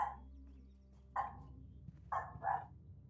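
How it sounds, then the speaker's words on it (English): A pet dog barks three times in short, loud bursts, one near the start and two close together toward the end, with quieter room noise in between. "I apologize for my dog."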